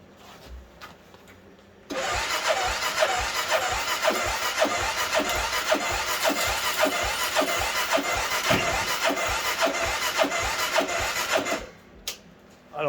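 A 2006 CFMoto Hoss side-by-side engine cranks over on an undersized four-wheeler battery, a steady rhythmic starter churn lasting about ten seconds without catching, close and loud, then stopping.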